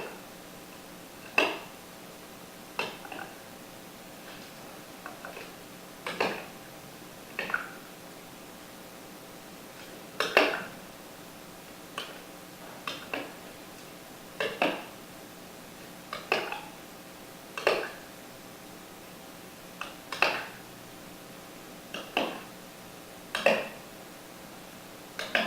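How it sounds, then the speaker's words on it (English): A utensil stirs ingredients together in a dish for a healthy cold-weather comfort food, giving sharp clinks and scrapes against the bowl every second or two, close and clear with no talking. "mix everything up."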